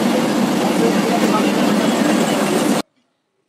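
A passenger train at night out of Sealdah, moving toward Krishnanagar, a loud continuous rumble and rattle of carriages heard from on board, cutting off abruptly near the end.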